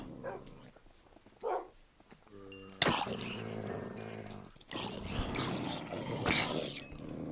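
Tamed dogs in the video game Minecraft bark in short separate yips and barks, with a louder burst near the middle, over a background of game sounds.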